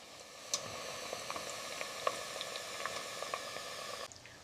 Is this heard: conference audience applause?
no